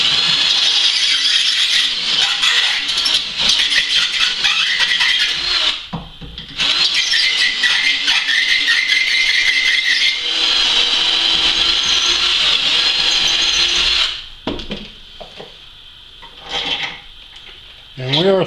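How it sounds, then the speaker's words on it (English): A drill bores out a hole in a machining job, stepping up a 64th of an inch at a time, with loud, close grinding and squealing cuts in several long bursts separated by brief pauses, with no talking. "Just went through the 5/16 drill and it's too tight, so we're just going to take her a 64th at a time"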